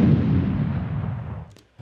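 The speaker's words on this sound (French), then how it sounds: "je vais vous faire écouter donc en bypass le son d'une explosion" Unprocessed explosion sound effect: a loud, deep rumbling blast that rolls on for about a second and a half before fading into a brief trailing crackle, heard alone.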